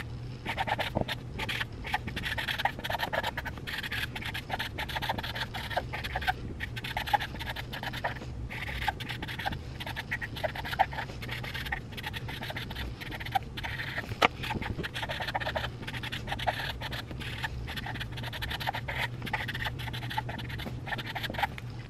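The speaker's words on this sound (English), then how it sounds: "So now I'm going to get a pen out and we are gonna write a thank you card." A pen scratches steadily across a thank you card, a near, continuous dry scraping with brief pauses between strokes, alone without talk.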